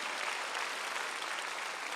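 A large crowd at an outdoor prayer rally in a war memorial plaza in Seoul breaks into sustained, dense applause for a church elder who fought in the Korean War, a loud uniform roar with no pauses.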